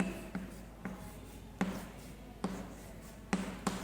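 Chalk or marker strokes as a teacher writes a bold heading on a board, a handful of sharp taps and scrapes at irregular intervals over a quiet room.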